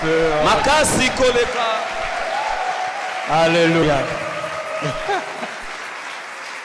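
A church congregation applauds and acclaims during a worship service, a broad wash of clapping beneath loud voices calling out over it.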